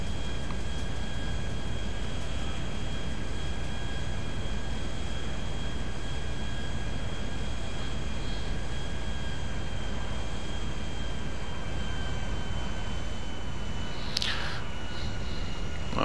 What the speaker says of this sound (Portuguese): Então vamos lá, vamos decolar aí. Já decola rápido aí e tal